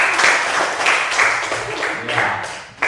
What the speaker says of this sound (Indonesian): tepuk tangan untuk Azizil